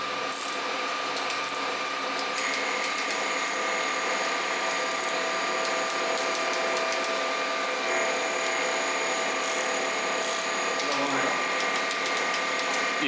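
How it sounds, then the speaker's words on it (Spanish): Tightening bolts in a cross pattern on a BMW R1150RT motorcycle during a full service, a continuous whirring, ratcheting tool sound over steady workshop noise, with faint speech in the background. "Si puedes apretar siempre en cruz,"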